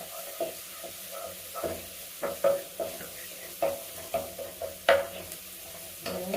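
Garlic paste and green chilies frying in a pan give a soft, low sizzle, punctuated by a series of light scraping stirs spread unevenly through the clip.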